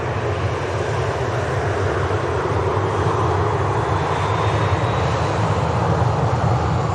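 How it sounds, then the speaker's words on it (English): A Ryanair jet airliner roars through its departure takeoff roll at Manchester Airport, a loud, steady, broadband engine rumble that holds constant throughout. "Ryanair on the departure roll."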